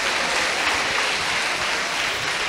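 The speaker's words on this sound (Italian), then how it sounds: "un applauso per il tentativo" Steady audience applause during an Italian talk about preparing for the future, a dense, even wash of many hands clapping that stays loud and unbroken throughout, with no voices over it.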